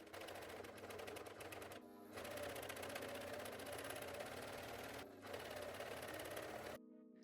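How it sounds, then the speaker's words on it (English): A serger overlocks the hem along the bottom of a pair of shorts, running in a steady, fast mechanical whir with two brief pauses before stopping, heard up close and alone. "I then serged the entire bottom of the shorts."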